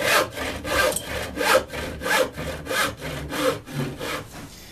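A hand saw cuts through wood to make a bench dog, with steady back-and-forth strokes, about eleven in under five seconds, close and fairly loud with no talking.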